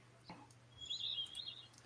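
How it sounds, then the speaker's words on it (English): Birds chirp faintly in the background of the Quiplash party game, a thin high twittering that rises briefly over a low steady hum. "It does sound like birds, doesn't it?"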